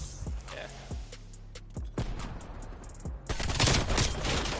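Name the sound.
AK-47 gunfire in a video game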